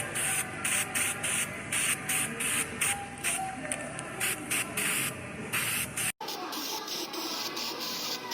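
An aerosol can sprays weld-through primer onto a replacement Ford F150 bedside. It gives repeated short, close hissing bursts in a stuttering rhythm, and a steady background hum remains after the spraying stops.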